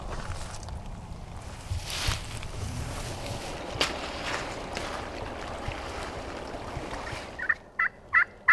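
A wild turkey hen calls in spring woodland on public land, a short run of four or five sharp, clipped yelps near the end, fairly distant over steady wind and rustling brush.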